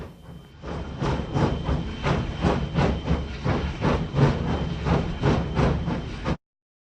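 A steam locomotive chuffs in a steady, rapid rhythm, each puff a sharp burst of hissing steam, loud and close, before stopping abruptly.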